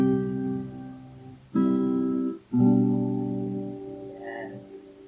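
A fingerstyle acoustic guitar plays the opening section of the hymn To Rescue a Sinner Like Me, with sustained ringing chords, a brief gap, then another chord left to fade slowly, close and clear with no talking.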